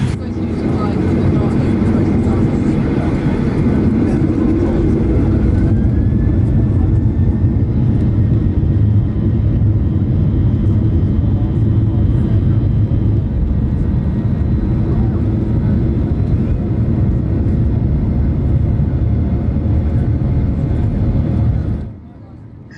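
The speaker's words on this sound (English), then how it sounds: "I've substituted in footage from another 737-ish takeoff I filmed a few weeks ago" A 737-type jet airliner takes off, its engines giving a steady loud roar with a deep low rumble that holds throughout and cuts off abruptly at the end, with no voices heard.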